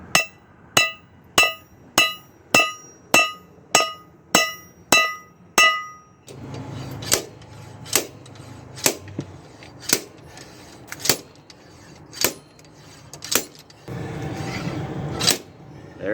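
Wheel studs being hammered into a vehicle wheel hub: a rapid run of about ten sharp metallic strikes, then slower, spaced blows over a rougher background.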